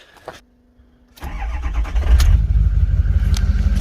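A brief electric click and starter whir, then a 6.0 Powerstroke diesel truck engine cranks and catches, settling into a loud, rumbling idle close by.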